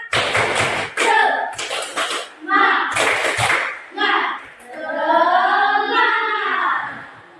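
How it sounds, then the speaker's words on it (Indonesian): Schoolchildren in an Indonesian classroom clap a rhythmic cheer before a lesson, with bursts of loud, close group clapping in short patterned runs, followed by the class chanting together. "Sebelum belajar kita tepuk semangat dulu ya. 1, 2, 3, tepuk semangat."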